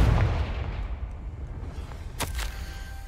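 A Confringo spell explodes in Hogwarts Legacy: a heavy booming blast up front that rumbles and decays, followed by a sharper secondary crack-and-thud a couple of seconds later, no voices.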